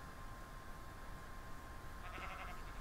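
Sheep bleating in the Minecraft video game, a short game-sound bleat near the end over steady background noise, with no talk.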